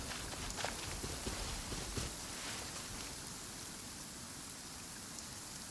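Steady, dense rain hisses across an outdoor area in the video game Genshin Impact, with soft footsteps mixed in during the first few seconds before the rain continues alone.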